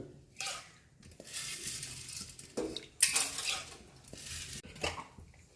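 Washed cowpeas tipped into a metal pressure cooker in a home kitchen, giving a series of clattering, rattling bursts with metallic clinks and brief pauses between pours, fairly close and moderate in level.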